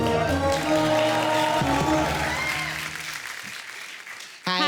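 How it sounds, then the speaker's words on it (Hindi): A television studio audience claps loudly alongside tonal music, then the clapping fades and a fresh burst of applause starts right at the end. "जोरदार ताली इनके लिए।"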